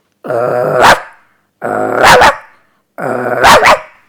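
A school student performing mimicry at a school program in Chelannur imitates a dog barking at a thief entering a house: three drawn-out rough snarls ending in sharp barks, loud and close with pauses between.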